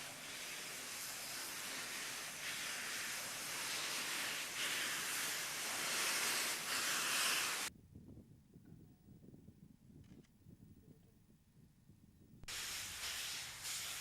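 A passenger train descending toward sea level in Kenya, heard as a steady loud hiss and rumble of running on rails, dropping abruptly to a quieter low rumble for several seconds before the full noise returns.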